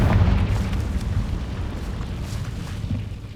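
The Confringo fire spell detonates in the video game Hogwarts Legacy, a loud deep booming blast that rumbles and slowly fades over a few seconds, with no talking.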